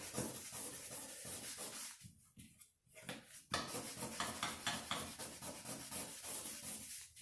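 Hand sanding with sandpaper stroked in one direction during a crafts class, a run of brisk scratchy rubbing strokes, close and distinct, with a short pause midway before the rhythmic strokes resume.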